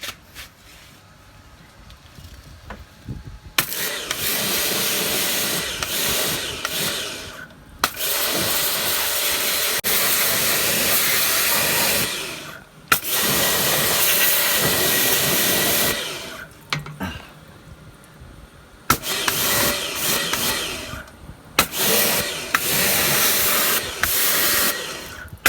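Degreaser sprays onto a motorbike engine in several long, loud, close hissing bursts separated by short pauses, a forceful pressurised rush with no talk over it.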